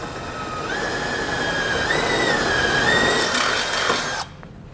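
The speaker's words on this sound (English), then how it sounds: "we're going to use our bracket here as a template and drill out both of these holes using a 3/8 drill bit" A power drill fitted with a 3/8 bit bores holes through a base plate bracket on a 2018 Jeep Grand Cherokee. The motor whines steadily and loudly, pitch rising slightly as it cuts, then stops abruptly near the end.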